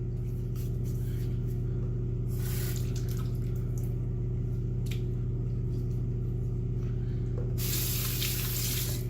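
Water runs steadily from a tap during a wet shave with a brush and soap, a constant rushing hiss occasionally splashing louder, with no voices.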